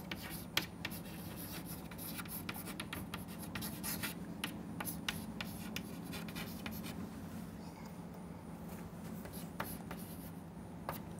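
A hand writes a formula, a soft continuous scratching of pen or marker with short strokes and taps, faint and close, with no talking during the writing.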